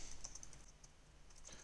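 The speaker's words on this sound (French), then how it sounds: "Je vais taper sur la touche entrée de mon clavier pour passer à la ligne suivante." Someone types on a computer keyboard, with light, irregular key clicks that include a press of the Enter key. The clicks are faint and close over a steady hiss.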